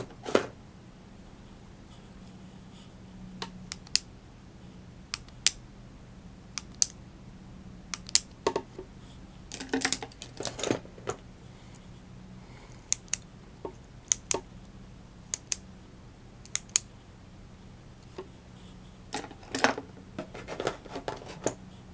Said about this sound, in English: There is a lot of friction in clicking this pen, and it has a very wide body to grip it.